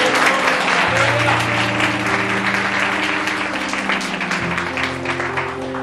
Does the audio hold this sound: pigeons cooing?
no